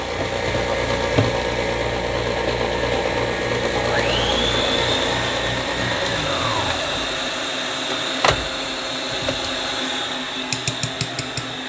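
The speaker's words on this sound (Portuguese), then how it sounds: "Não precisa parar a batedeira para adicionar o açúcar" An electric mixer runs loud and steady as it beats egg whites and sugar into stiff peaks for a water-based sponge cake. Its pitch climbs and then falls midway, and a few clinks come near the end.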